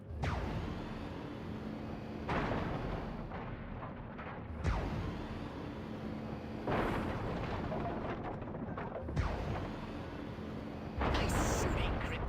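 A farmhouse in Destroy All Humans! is blasted apart by a death ray, bringing a chain of heavy rumbling explosions and booms in several bursts. A voice talks over the blasts.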